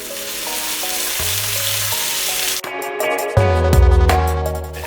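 Mushrooms sizzle steadily in a pan with garlic, tarragon and white wine, a continuous close crackle that grows louder and busier partway through as liquid hits the hot surface, with no talking.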